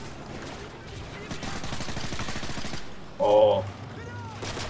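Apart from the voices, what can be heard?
gunfire in video game Modern Warfare campaign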